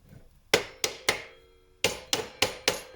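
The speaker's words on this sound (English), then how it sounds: "So let me actually just hammer this a little bit." A hammer strikes the slider rail of a Ryobi 10-inch compound sliding miter saw, three sharp metallic knocks, a short pause, then four more in quick succession, each ringing briefly, close and loud with no talk.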